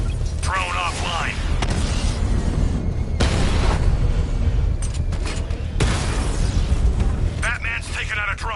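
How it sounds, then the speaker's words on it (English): Heavy explosive bursts as Batman destroys a drone in a PS4 video game, several booming hits between stretches of speaking voices and steady rumbling. "Batman's taken out a drone."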